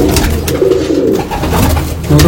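Loft pigeons coo loudly and close by, a dense, throaty rolling chorus that carries on without a break.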